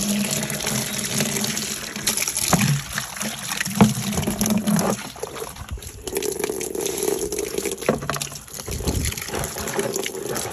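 Steady running water gushing and splashing while parts for a DIY farm waterer are rinsed, a continuous close wash of liquid with shifting splashes and no talking.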